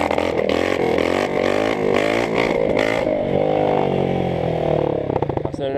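A Honda CRF 230 dirt bike with only an exhaust pipe revs hard and rises and falls in pitch, a loud, close buzzing whine with rapid throttle blips; the throttle sticks slightly.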